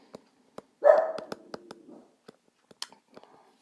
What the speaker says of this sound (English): I don't know if you can hear my dog barking in the background,